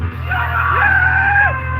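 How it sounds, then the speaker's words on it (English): A loud, sustained recorded scream, shrill and wavering, holds for about two seconds over a steady low rumble, close and dominant. "where's the scream? Right here."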